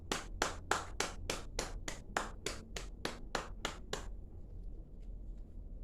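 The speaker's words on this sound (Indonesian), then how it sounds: "Bisa tepuk tangan." Hands clap in a classroom teaching session, about a dozen quiet, sharp claps in a quick steady rhythm that stop abruptly, leaving faint room noise.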